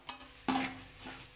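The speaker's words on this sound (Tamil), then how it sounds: "எடுத்துட்டு பிறகு இந்த எண்ணெயிலே நம்ம ரவையை சேர்த்து வறுத்துக்கலாம்." Semolina (rava) roasting in oil in a pan while being stirred for rava kesari, a soft close sizzle with brief scraping stirs, quiet throughout with no talk.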